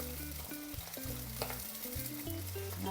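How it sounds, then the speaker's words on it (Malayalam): Beans stir-frying in oil with water crackling in the pan: a faint, continuous hissing sizzle beneath steady low tonal music, with no one speaking. "അതിനകത്ത് വെള്ളമേ ഉണ്ട്, അതായി പൊട്ടുന്നത്."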